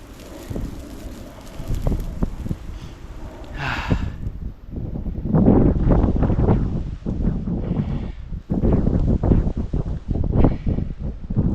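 Heavy wind buffets a microphone outdoors, a loud, continuous rumbling roar in uneven gusts that swells and drops throughout.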